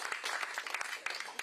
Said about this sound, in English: big round of applause to the chief